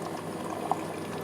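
Aquarium water circulates in from a tank and flows back into it, making a steady, soft trickling and bubbling wash with one small splash.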